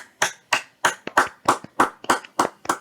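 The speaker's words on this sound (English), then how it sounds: "Can we get a round of applause?" A single person clapping slowly and steadily to welcome a guest, about ten close, sharp hand claps in an even rhythm with no crowd behind them.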